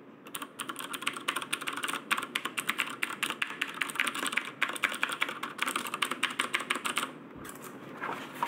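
Rapid, steady clicky typing on a Logitech G610 mechanical keyboard with Cherry MX Blue switches, dense keystrokes close up and fairly loud, easing off briefly near the end.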